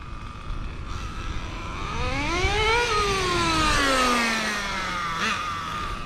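A very old 1/10-scale HPI RS4 3 Drift nitro RC car engine revs up to a high whine and then winds down in a long falling pitch, close by with no talk.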